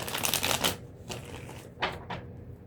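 Tarot cards are shuffled close up with a quick papery riffle, followed by a few softer rustling flicks and slides, faint and without talking.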